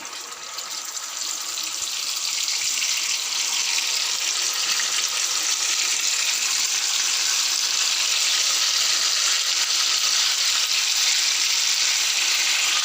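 Marinated tandoori chicken pieces frying in hot oil on a slow flame, giving a steady, even sizzle that builds slightly at the start and then holds constant, close and with no talking.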